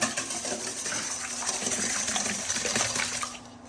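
Large eggs are whisked in a bowl for pumpkin spice waffle batter, a rapid, even sloshing and tapping that runs for a few seconds before fading out near the end, with no voices.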